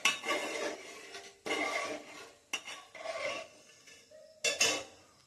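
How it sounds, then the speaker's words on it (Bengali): Payesh of gobindobhog rice and milk is stirred in a pot, heard as separate bursts of a spoon scraping and rubbing against the metal pot bottom, with short pauses and a faint clink between strokes. "এটা এখন অনবরত নাড়তে হবে, না হলে লেগে যাবে তলায়।"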